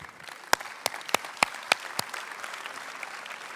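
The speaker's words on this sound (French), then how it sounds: "Je pense qu'on peut vous applaudir déjà." A conference-hall audience at an annual information meeting breaks into applause, a steady patter of many hands with a few sharp louder claps standing out, gradually easing.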